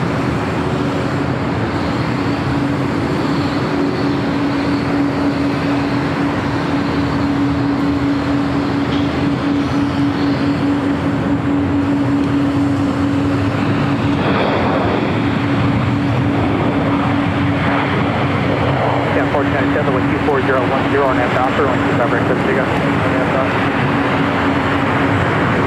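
A United Boeing 777-200 bound for Honolulu taxis toward takeoff at LAX, its engines a continuous, even roar with a steady hum, heard from a distance and unbroken for the whole stretch.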